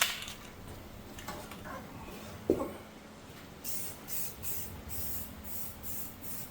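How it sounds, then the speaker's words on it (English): Grey self-etching primer hisses from an aerosol spray can in short bursts onto a Jeep Gladiator inner fender, close and fairly loud, with a faint click partway before a series of pulsed sprays. "This is a self-etching primer in gray, so we will just lightly spray this on here."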